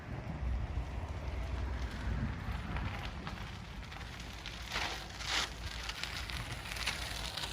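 Steady wind roaring and buffeting the microphone throughout a bicycle trail ride, with low rumbling gusts and a brief hissing surge near the end.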